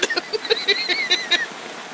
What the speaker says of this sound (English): It's raining real good.